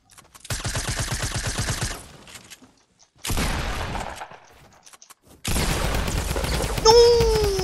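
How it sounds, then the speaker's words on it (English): A drum gun fires in Fortnite Battle Royale in three long, rapid automatic bursts, loud and close. Brief gaps separate the bursts, and a rising whistle-like tone comes at the end. "Oh, he has a drum gun."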